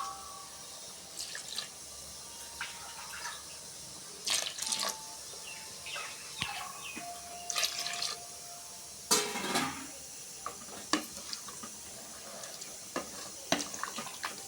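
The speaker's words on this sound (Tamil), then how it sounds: "அப்புறம் சுண்டல் வேக வச்ச தண்ணி இருக்குது. ஸோ நம்ம காய்கறி வேகிற அளவுக்கு தண்ணி ஊற்றிக்கலாம்." Cooking water from boiled chickpeas is poured into a pot of simmering vegetables for a chickpea curry, giving faint intermittent splashes and trickles with stirring clinks, quiet and close.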